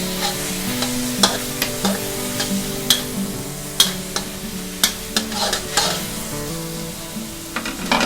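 Sausage being stir-fried with Thai roasted chili paste and oyster sauce, sizzling steadily in the pan. A spatula scrapes and clacks against the pan in irregular sharp knocks over the constant frying hiss, with no voices.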